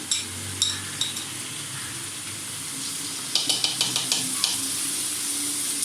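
Two spoons of garlic ginger paste sizzle steadily with onions in a pan for fish head and potato curry, punctuated by a quick series of metallic spoon clinks against the pot.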